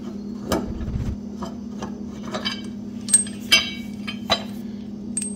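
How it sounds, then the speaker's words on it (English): A ratchet works a blade bolt on a Bad Boy Maverick mower, giving scattered sharp clicks and metallic clinks over a constant low hum. "Just grab your ratchet, guys."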